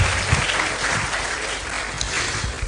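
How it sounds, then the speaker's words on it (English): Audience applause at an ambassadors' conference, a steady continuous wash of many hands clapping throughout, moderately loud and even. "Round of applause again."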